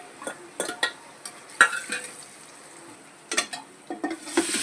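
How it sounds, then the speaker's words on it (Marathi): Onion sautéing in a pan for a home chicken curry, with scattered soft sizzles and several spatula scrapes and stirring clacks against a quiet background, fairly close and moderately faint. "कांदा व्यवस्थित परतून घेणार आहोत."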